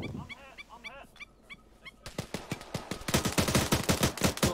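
Gunfire in a military shooter video game, starting with a few scattered shots, then dense rapid bursts of automatic fire building to a sustained loud volley, with brief voice sounds early on.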